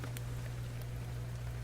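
Steady rain falls in an even, continuous hiss with a low constant hum beneath, close and unbroken throughout, with no voices.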